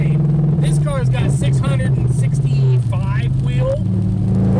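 Chevrolet Camaro ZL1 with about 665 wheel horsepower, exhaust at high rpm while driven in the rain: loud, close engine drone with rising and falling pitch sweeps, heard under someone talking.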